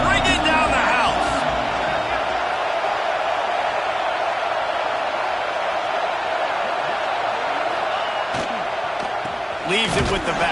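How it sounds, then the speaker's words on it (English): A packed football stadium crowd roars loudly on a third down, a dense, sustained wall of cheering that holds throughout, with a few sharp bangs and a brief louder burst near the end. "this crowd is bringing down the house"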